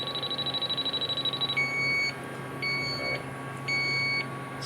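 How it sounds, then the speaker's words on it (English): A refrigerant leak detector, used while checking a Zero Zone cooler, gives a fast run of rapid pulses that turn into a few longer, steady high electronic beeps spaced about a second apart, close and fairly loud. "So my detector was going crazy for a minute there."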